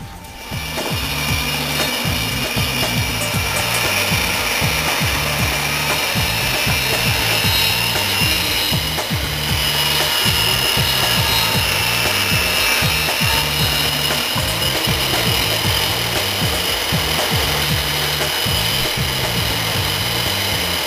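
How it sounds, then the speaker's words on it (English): A table saw makes a curve cut around a wooden lid, giving a loud, continuous rasping, rubbing grind with a rhythmic low pulsing throughout, close and uninterrupted with no talk. "We're using the table saw and making a curve cut all the way around."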